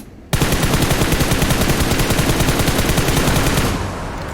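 Sustained rapid automatic gunfire from a guardian enemy in PUBG Mobile, a loud, dense, continuous burst lasting a few seconds before abruptly thinning out into a softer tail.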